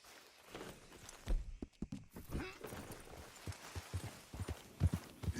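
Horse hooves in the video game Red Dead Redemption 2, an irregular clip-clop of hoofbeats and thuds, moderately close, with faint game voices in the background.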